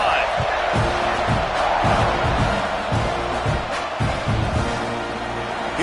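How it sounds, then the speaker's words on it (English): A large stadium crowd roars steadily at a Texas A&M versus Penn State college football game during a kickoff after a touchdown drive, a dense continuous wash of noise with scattered claps and thuds. "this crowd is feeling themselves after that last drive"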